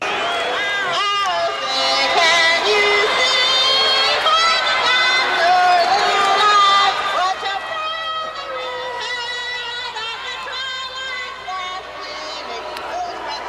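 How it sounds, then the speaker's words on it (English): Studio audience on a TV show booing a woman, a loud sustained wave of jeers and crowd noise that gradually eases, with voices talking over it. "They're booing her badly."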